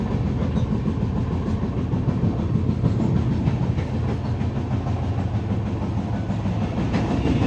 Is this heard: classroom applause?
no